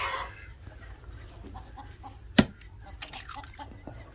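A hen clucks in short, soft bursts at close range, punctuated by one sharp knock partway through, with quiet background rustle around it.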